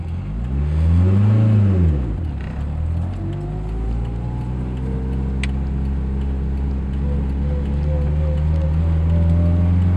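A 2.4L fuel-injected car engine tuned for E85 pulls away from a green light, rising sharply in pitch through one rev before a shift, then settling into a steady, loud drone as it cruises.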